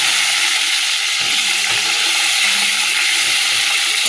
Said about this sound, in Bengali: আর তেলের মধ্যে বেগুন ভাজাটা বসিয়ে দিলাম